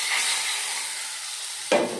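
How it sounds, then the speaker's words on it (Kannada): Mustard seeds, urad dal, curry leaves and turmeric sizzle in hot oil for a tempering: a steady, fairly loud hiss, then a sharp crackling spurt near the end, with no voices. "ಇದಕ್ಕೆ ಸ್ವಲ್ಪ ಎಣ್ಣೆ ಹಾಕ್ಕೊಂಡು ಅದಕ್ಕೆ ಸಾಸಿವೆ, ಉದ್ದಿನಬೇಳೆ, ಕರ್ಬೇವಿನ ಸೊಪ್ಪು, ಸ್ವಲ್ಪ ಅರಿಶಿನ ಪುಡಿ ಹಾಕಿ ಒಂದು ಒಳ್ಳೆ ಒಗ್ಗರಣೆನ ಮಾಡ್ಕೊಳ್ಳೋಣ."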